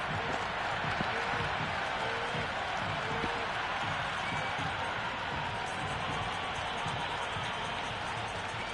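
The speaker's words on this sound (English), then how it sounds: "the crowd have joined the party. It's pretty noisy at the ground" Stadium crowd noise from an IPL cricket video game match between GT and PBKS, a steady dense roar of cheering and applause filling the ground, continuous and loud with no break throughout.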